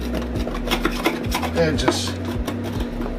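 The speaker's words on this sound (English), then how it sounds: "I use a spoon to get in the corners." A spoon scrapes dried urates out of the corners of a reptile tub in quick, rough strokes, close and distinct, while a person says a couple of words.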